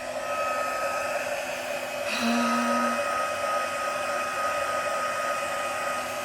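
Hair dryer blowing on freshly made craft pieces, a steady whirring hum that shifts pitch slightly as the setting or angle changes, continuous and close with no talking.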